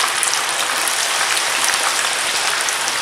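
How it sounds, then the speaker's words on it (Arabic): Potatoes fry in hot oil with a dense, even crackling sizzle, close and constant like heavy rain, with no voices. "الزيت سخن نبدا نقلي البطاطا"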